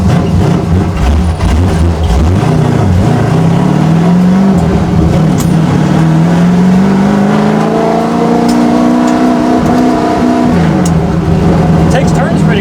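A 1966 Ford Mustang race car drives and accelerates, its engine loud and close with rising revs and gear shifts across the whole stretch, while people talk over the steady motor noise.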